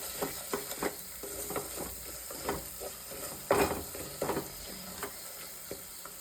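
Fish curry masala with Kashmiri chili powder being stirred in a pan, a soft sizzle under repeated scraping and clacking strokes of a spoon, one sharper knock midway.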